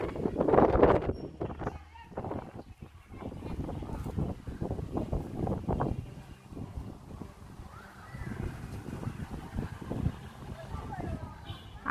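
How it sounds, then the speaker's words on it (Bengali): Strong wind gusting across a rooftop under a cloudy sky with light drizzle, a rough, buffeting roar that rises and falls, with someone talking over it throughout. "আর বাতাসের যে শব্দ"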